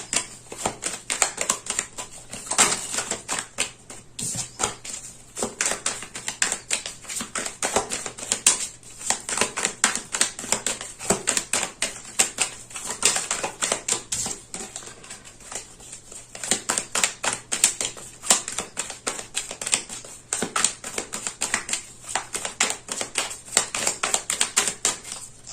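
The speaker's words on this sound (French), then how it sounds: "Je rajoute une carte sur le 3 de bâton." Tarot cards are laid out and handled close by, making a long, continuous run of quick papery taps, slaps and rustles that thins out briefly now and then.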